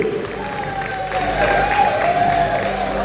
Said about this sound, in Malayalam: എല്ലാവരും കൈയടിച്ചേ